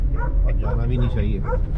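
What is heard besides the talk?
dogs barking in fog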